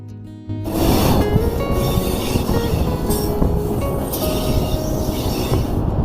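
A passenger train runs along a railway line in Bihar near the Bagmati River, a loud, close rumble of wheels and carriages with faint squeals and clatter, steady throughout after a brief quieter opening.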